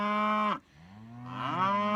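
Cattle near a corral, with bulls and cows lowing: a loud, close moo, a brief pause, then a second long, drawn-out moo rising in strength.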